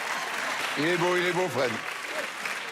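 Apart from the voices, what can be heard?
studio audience applause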